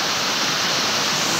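Water rushing down Banti Falls, a steady broadband roar of falling, flowing water that holds evenly throughout, close and loud with no voices.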